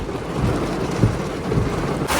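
A heavy storm brings a constant loud roar of pouring rain and wind buffeting the microphone, with a low rumble that may be thunder, and no one speaking.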